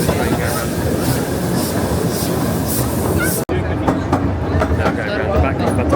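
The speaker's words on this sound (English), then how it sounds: "I'll give you a view of this train going around." A theme park train at Efteling runs past in a busy outdoor park, its steady rolling rumble continuous and moderately loud amid crowd chatter.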